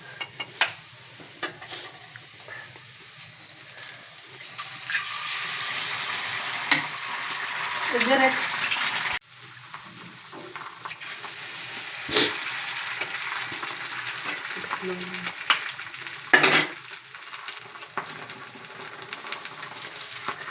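Potatoes and egg fry in a pan with a steady sizzle, broken by scraping stirs and occasional knocks of a utensil against the metal, heard close.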